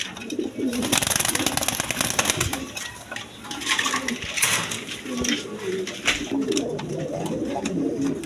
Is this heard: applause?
no